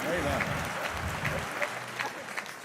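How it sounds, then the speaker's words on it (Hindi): Audience at a Hindi comedy poetry gathering claps in a scattered, moderately close burst that thins out, with a voice talking over parts of it. "तालियां कम है आपकी"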